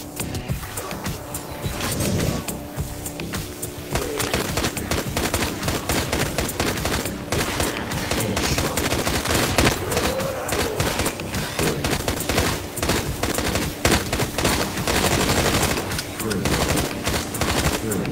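Fast, dense bursts of virtual gunfire play without pause from the VR shooting game Drop Dead Dual Strike, loud and close, with brief mechanical clicks mixed in.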